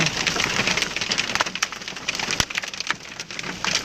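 Walnut-sized hail pelts a car during a storm in Akçaköy, heard from inside, a dense, loud and continuous clatter of sharp hard impacts on the body and glass.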